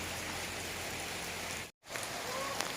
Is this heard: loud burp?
no